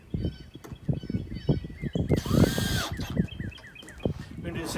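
Power drill driving a screw into the wood of a bird feeder with flush edges, a short whirring burst partway through, mixed with a person talking and repeated bird chirps.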